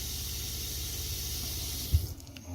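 Cold water running from an RV kitchen sink faucet, a steady close rush that ends with a brief thump as it shuts off.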